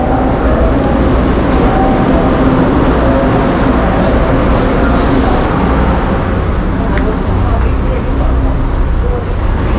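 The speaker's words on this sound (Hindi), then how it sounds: "ये आ गई मेरी ट्रेन।" Local train arriving at a station in Taiwan, a loud, steady rumble of wheels and carriages throughout, with a couple of brief higher squeals or hisses midway.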